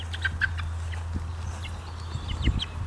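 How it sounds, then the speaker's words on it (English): Chickens cluck in short, scattered bursts over a steady low hum, fairly close and moderately loud, one loose from the coop. "all of the chickens were inside, and now one of them got out"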